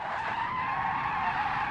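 Rear tyres of a large car skidding under a handbrake drift, a steady loud screech held throughout with a slight dip in pitch midway.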